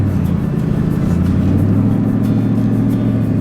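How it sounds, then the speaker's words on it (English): Steady engine drone of a 17-year-old Ford F-150 Lightning SVT pickup cruising on the street, a loud continuous low rumble with no speech over it. "let's hit the streets and see how the F-150 Lightning SVT does on the way back"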